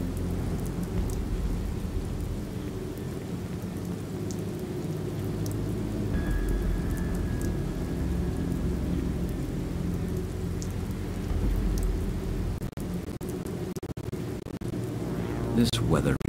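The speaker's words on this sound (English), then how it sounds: "It's raining again." Steady rain with rolling thunder in the point-and-click adventure game The Moment of Silence, a continuous wash of downpour with low rumbles throughout and a brief high tone partway through.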